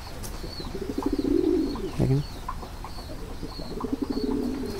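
Pigeons coo in repeated low, throaty rolling phrases close by, with a few brief chirps and a short spoken word in between.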